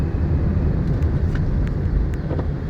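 A car engine accelerating in third gear during a driving lesson on a road, a loud steady low rumble with wind buffeting, no talking heard.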